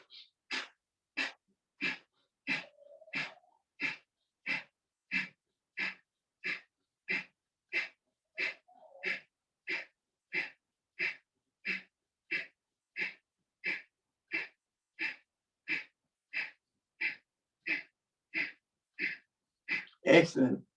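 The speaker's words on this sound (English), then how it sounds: "you're forcefully breathing out and breathing in to increase prana in your body" Forceful breathing during chair yoga, about thirty sharp, evenly spaced breaths repeating roughly every two-thirds of a second, close and alone, with a brief voiced sound between a couple of them.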